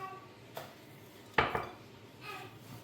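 A spoon clinks and scrapes against a dish while crushed Oreo biscuits are stirred with butter, giving a few sharp clatters and soft scraping, close and fairly quiet.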